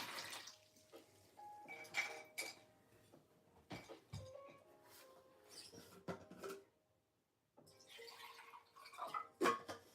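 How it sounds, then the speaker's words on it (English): Rinse water for paint brushes being changed during an acrylic painting session: intermittent faint splashes, drips and clinks of a water container, scattered and soft with a short silent gap, nearby and without talk. "I'm gonna have to refresh my water because we're gonna need clean water for our light grays now"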